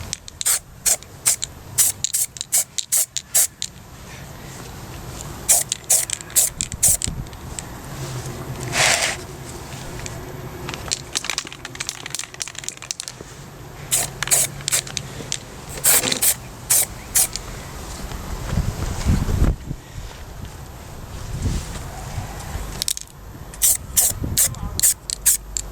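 An aerosol can sprays paint onto a refurbished Cortina MK3 wiper motor in many short, close hissing bursts between pauses, with quieter rustling and handling noises in the gaps.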